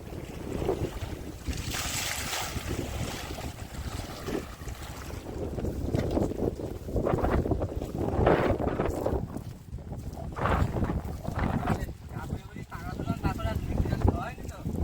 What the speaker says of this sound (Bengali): হাওয়া হচ্ছে ঝড়ের মতো, কিন্তু গরম তবু রয়েছে